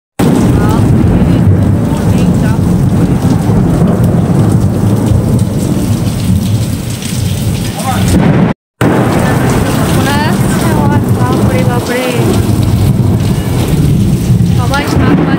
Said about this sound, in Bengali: এত জোরে বাজ পড়ছে।